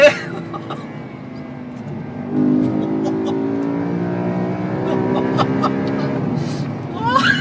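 BMW M3 engine revving and accelerating on a 2011 M-Drive tour, a steady harmonic drone that swells louder after a couple of seconds and holds, with faint voices nearby.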